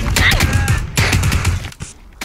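Rapid gunfire in a video game, bursts of loud shots and clattering weapon noise filling most of the stretch, with a voice shouting over it.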